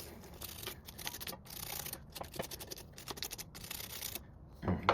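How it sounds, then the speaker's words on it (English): A wire brush scrubs rusty metal parts on a Toro LX 427 riding mower, a close rapid scratchy back-and-forth rasping in quick strokes with brief pauses, ending in a sharper knock. "Hit it with the wire brush a little bit."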